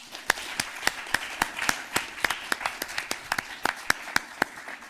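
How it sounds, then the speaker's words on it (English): Scattered clapping from a conference audience at the 2023 Future of Work Conference, sparse and uneven sharp claps across the room, moderately distant, without voices. "let's give our amazing panel a big round of applause"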